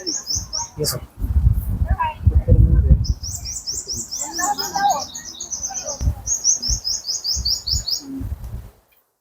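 Small birds chirp and tweet in rapid, repeated bursts at an outdoor hill site in Anjar, Kutch. The calls are fairly close and continue through most of the clip, with people talking and walking sounds underneath.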